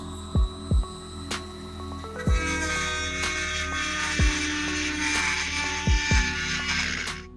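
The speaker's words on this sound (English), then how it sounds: "So now I just gotta get this die grinder set up and see if maybe we can get that pesky weld out of our way." A die grinder fitted with a burr grinds out an old weld on the frame rail and torsion bar crossmember of a 57-year-old classic car, a steady high whine running throughout, broken by several sharp low thumps.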